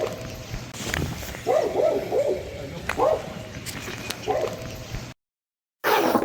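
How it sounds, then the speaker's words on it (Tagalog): A dog barks and yips in short bursts at a Filipino home, several quick barks at moderate distance mixed with background noise and faint voices, then a brief cutout. "yung aso walang undang pagtahol ng tahol all day long, all night long"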